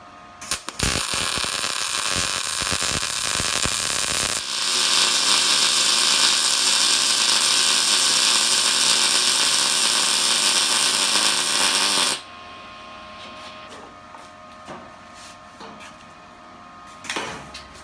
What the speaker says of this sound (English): it's going to automatically keep welding until I get to the end